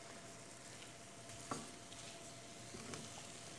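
Food being stirred in a frying pan during homemade cooking, a faint, steady sizzle with a couple of soft utensil taps, heard alone at low level.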